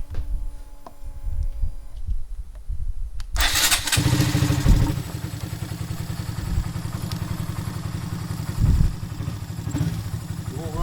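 A Honda Grom motorcycle with a flashed ECU starts up after some quiet clicking, then its small engine idles and revs hard in a close, loud, steady buzz with a couple of sharper rev peaks.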